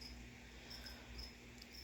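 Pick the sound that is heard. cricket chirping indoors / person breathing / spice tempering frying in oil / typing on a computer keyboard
cricket chirping indoors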